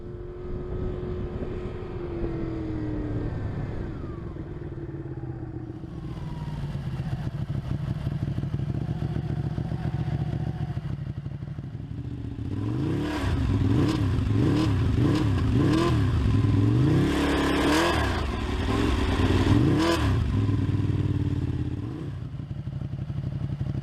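Ducati 899 Panigale L-twin sport motorcycle engine idling with a lumpy beat, then revved repeatedly in sharp rising and falling blips, loud and close with no talking.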